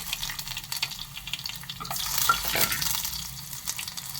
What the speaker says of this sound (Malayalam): കടുക് ഇട്ട് കൊടുത്തു. അതിപ്പോൾ പൊട്ടാൻ തുടങ്ങിയിട്ടുണ്ട്.